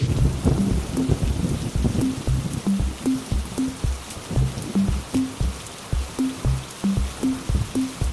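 Rain and thunder fill a rainy-day scene in an animated Bengali folk-tale cartoon. Steady rainfall runs under rhythmic low rumbles and repeating pulses, with no voices.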